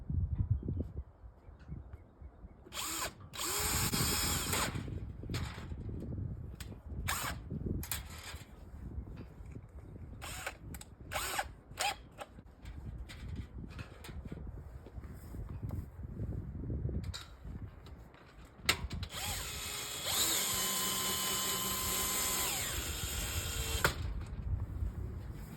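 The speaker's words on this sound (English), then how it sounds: "all I'm doing is drilling through the aluminum" A power drill bores a pilot hole through an aluminum storm door frame, with scattered clicks and handling noises leading up to a sustained, whining run near the end of the clip.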